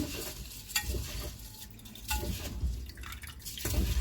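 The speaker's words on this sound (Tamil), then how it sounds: "இதை தண்ணீர் விட்டு ஒரு மூணு தடவை நல்லா அலசிக்கோங்க" Black kavuni rice being rinsed in water by hand, with repeated sloshing, stirring and dripping sounds in irregular bursts, close and moderately loud.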